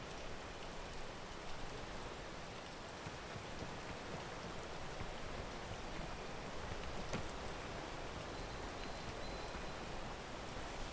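Rain falling in a video game during a charity raid stream, a steady broadband hiss of downpour with faint scattered patter, continuous and even throughout, no voices.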